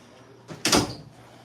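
A chair creaks and scrapes with one short, broad burst of noise lasting about half a second. It is close and fairly loud against a quiet room.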